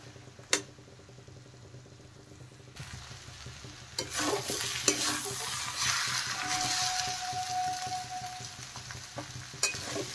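Cabbage with garam masala frying in a pan, starting as quiet clinks of a spoon, then swelling into a loud close sizzle with scraping stir strokes and sharp utensil taps, no speech.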